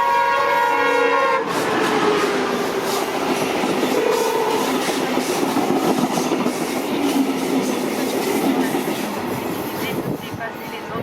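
A VIA passenger train passes Acton GO Station, a loud horn blast at the start followed by a sustained roar and rattle of cars rolling by close, with a station announcement voice faintly under it.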